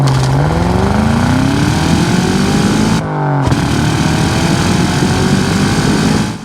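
A 2003 Ford Mustang Mach 1 with the 4.6 V8 revs loudly and continuously, its pitch climbing steadily under load, dipping briefly mid-run as the gear changes, then roaring on at full volume.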